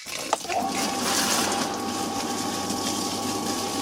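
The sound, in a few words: pool pump running, backwash water flowing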